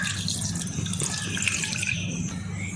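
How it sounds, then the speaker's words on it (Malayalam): Water poured into a cooking pan holding squid to boil it, a close, continuous splashing pour lasting a few seconds with no voices. "വേകാനായി കുറച്ച് വെള്ളം ചേർത്ത് കൊടുക്കാം."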